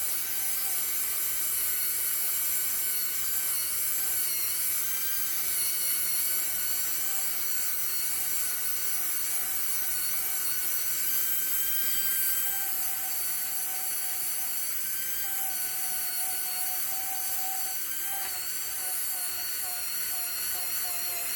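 A powered buffing tool runs against a polymer clay bowl as it is worked all the way around: a continuous, even whirring hum with a steady rubbing hiss, held for a long stretch with no pauses.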